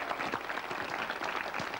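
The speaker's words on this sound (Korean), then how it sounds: "박수로 맞아주세요." Studio audience on a Korean cooking show applauding to welcome an interpreter, a soft, steady patter of many hands clapping without a break, somewhat distant and fairly quiet.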